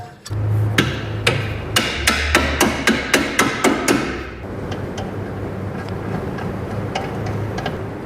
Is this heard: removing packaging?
no